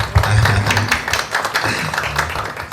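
Applause at a screening celebration for a TV show's writer, a crowd clapping steadily for a few seconds, close and fairly loud, with a low voice briefly audible underneath.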